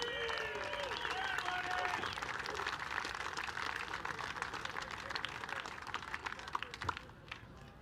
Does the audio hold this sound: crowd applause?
yes